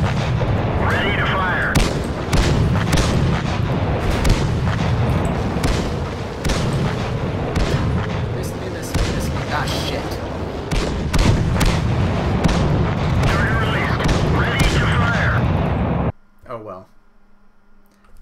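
Tank cannon fire in a first-person tank racing video game, with repeated booming shots and heavy gunfire-like blasts throughout, under frequent talk from players, ending in a brief near-silence.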